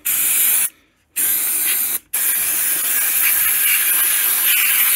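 Close, forceful aerosol engine degreaser spraying in long hissing bursts, with two short pauses between them, rinsing an SR125 motorcycle engine.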